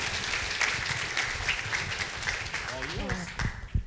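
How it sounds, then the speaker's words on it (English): An audience at a beauty-industry presentation applauds a speaker with steady, dense clapping throughout, while a voice speaks briefly partway through. "Could I have a round of applause for Connie?"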